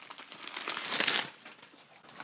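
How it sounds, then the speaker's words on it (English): Crinkling and crumpling of packaging as a new brake rotor for a 2010 Acura TSX is unwrapped, close and continuous, swelling louder in the middle before easing off. "take it out of its packaging"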